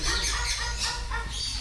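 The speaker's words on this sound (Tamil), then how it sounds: "ஐயோ என்னோட குருவி கத்துதே" A pet sparrow gives short harsh squawks and chirps on a farm, close and fairly faint, with a rapid broken rhythm over a low background hum.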